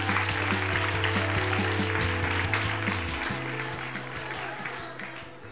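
An audience at a 2024 book-themed gala in Andalucía bursts into sustained applause that holds steady and then slowly tapers off, with a low musical drone running underneath.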